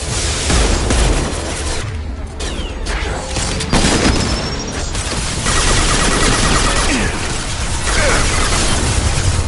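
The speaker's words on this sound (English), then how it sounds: "Impending explosion." Booming explosion and rattling gunfire-like bursts fill a Mass Effect 2 combat scene aboard a ghost ship, loud and dense throughout with layered crackles and blasts and no pauses.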